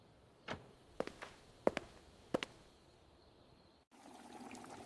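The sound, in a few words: water poured into big pot of vegetables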